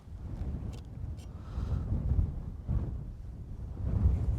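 Gusty wind rumbling and buffeting across the microphone outdoors under a moody sky, low and uneven in surges that rise and fall, with no voices.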